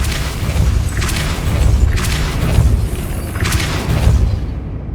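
Depulso spell impacts in Hogwarts Legacy on PS5, a series of heavy booming thuds roughly once per second over a low rumble, loud and close with no talking.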